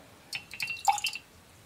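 Water drips falling onto paper during watercolor painting, a few quick light plinks and wet taps in close succession, faint and close with no talking.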